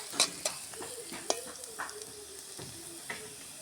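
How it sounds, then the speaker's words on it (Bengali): Onion frying until brown in a pan, a soft steady sizzle with occasional scraping clinks of stirring, close and quiet. "বাদামি কালার করে পেঁয়াজটা ভেজে নেব।"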